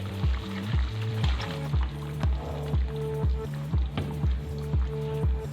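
Paste frying in a karahi for black pepper chicken with potatoes while being stirred. A soft, close sizzle comes with regular squishing scrapes of the spoon, repeating rhythmically about twice per second.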